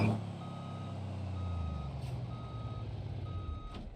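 A truck backing up in BeamNG.drive, hitched to a trailer with a 10-speed twin-stick gearbox, its reversing alarm giving four evenly spaced beeps over a steady low diesel engine rumble, with no talking.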